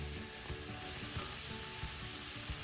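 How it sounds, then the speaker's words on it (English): Mushrooms and onions sauté in olive oil over very high heat in a pan, giving a steady, fairly quiet sizzle with small crackles and soft stirring bumps throughout, no voices. "you want to saute them really quickly on extremely high heat"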